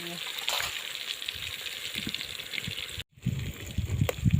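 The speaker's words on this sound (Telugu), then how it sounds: "చికెన్ వేసినాం కదా, మంచిగా ఫ్రై అవుతుంది" Chicken frying in oil gives a steady crackling sizzle, with stirring scrapes and a brief cut in the sound partway through.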